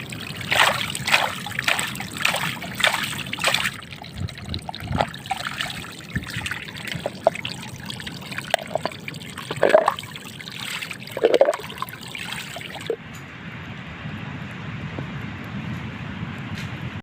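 Strong mountain stream water rushes and trickles continuously nearby, close to the sea, with intermittent splashes and gurgles over a steady flowing background.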